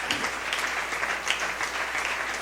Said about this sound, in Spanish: Ese aplauso para el Señor, porque Él es el Dios verdadero.